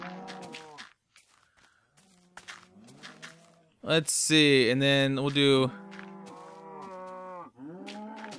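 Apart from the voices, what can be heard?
cows mooing in Minecraft video game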